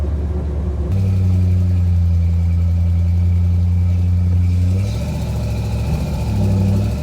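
Engine of an old junkyard Ford Maverick running for the first time in 30 years, a loud steady mid-pitched hum that idles, holds through a longer rev, then eases and picks up again near the end, with no talk.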